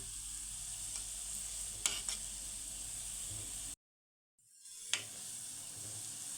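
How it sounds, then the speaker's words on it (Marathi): Gulab jamun made from khoa frying in oil over a low flame, a steady soft sizzle and hiss with a couple of brief stirring clicks, cutting out to silence for a moment before resuming. "गुलाबजाम तळताना गॅस कुठेही मोठा करू नका गुलाबजाम आपल्याला हे मंद आचेवरती एकसारख्या रंगावरती तळून घ्यायचे आहेत"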